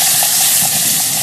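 A camping stove flame turned up during outdoor trail cooking roars as a loud, steady, broadband hiss that fills the whole short moment, close and unbroken.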